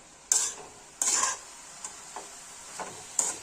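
A spatula scrapes and clinks in a pan as spring onion curry with spices is stirred, with a few sharp strokes over a soft sizzle, close by and without talk.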